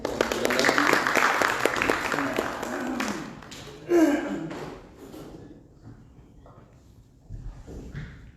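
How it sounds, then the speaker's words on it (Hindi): Congregation clapping at a Mother's Day church service, a dense burst of many hands that tapers off after a few seconds, with a voice speaking over it. "ताली बजाते हैं।"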